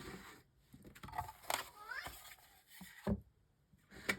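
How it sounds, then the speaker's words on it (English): A cat meows several times in short, rising calls, fairly close, with a brief quieter stretch between them. "that noise was my cat talking to us"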